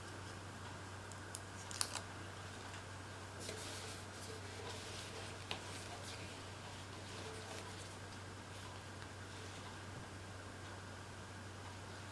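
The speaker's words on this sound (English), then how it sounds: "Cut this to fit right there." Scissors snip through a Velcro strap made for an Enya Nova U mini soprano ukulele, giving a few quiet, sharp cuts over a low, steady background hum.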